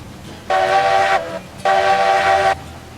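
Steam locomotive whistle from the Railroads Online game, two long, loud blasts with a short gap between them, over a low rumble from a single engine working up a stiff grade.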